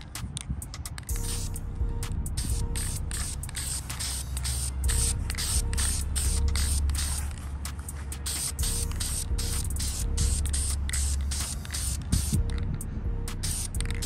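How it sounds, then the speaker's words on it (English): VHT roll bar and chassis paint spraying from an aerosol can onto a Monte Carlo SS blower motor, close, hissing bursts in rapid short pulses and longer sustained sprays over a low wind rumble. "I'm gonna go ahead and throw some roll bar and chassis paint on there"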